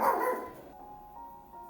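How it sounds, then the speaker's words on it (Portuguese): A small female dog barks a few times, fairly faint and indoors, with the yaps trailing off into quiet room tone. "Peço perdão aí a participação da minha cadelinha"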